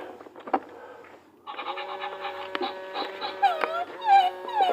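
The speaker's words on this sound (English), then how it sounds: "Turns on and makes these fucking noises. It's like a cyber dog or something" Robotic cyber dog toy emitting a run of electronic yips, whines and warbling tones, fairly close and steady after a short pause, with a voice briefly heard at the start.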